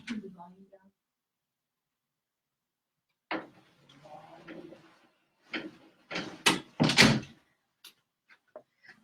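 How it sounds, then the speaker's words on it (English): An indoor door being pushed shut in a quiet room, a few soft knocks and a latch click after a short voice, with light handling sounds and brief speech around it. "let me close my door here"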